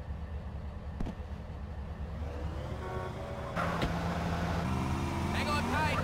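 A vehicle engine in GTA San Andreas Definitive Edition: a steady low rumble that swells and revs, growing louder partway through, with traffic-like noise around it.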